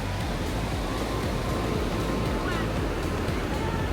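Surf washing onto a beach at Marin Bay, Martinique, a continuous loud wash of waves with wind rumble across the whole stretch.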